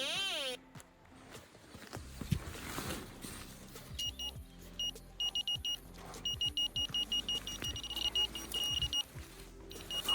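Repeated short electronic beeps from a metal detector pinpointer in quick bursts over outdoor rustling and shuffling in a forest, with a little background noise and movement nearby.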